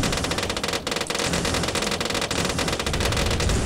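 Dartling gun towers in Bloons TD 5 fire in a dense, continuous rattling volley of rapid shots, loud and steady throughout with a couple of brief dips, and no talking over it.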